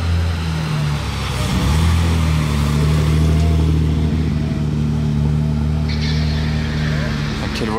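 A Mercedes 300 SL coupé rumbles nearby with a low, steady engine drone and some revving, loud throughout, while people talk over it.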